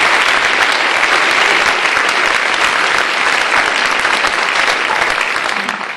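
Dense, steady applause from an auditorium audience welcoming a speaker at a campus talk, loud and close, continuing unbroken for several seconds before beginning to taper off at the end.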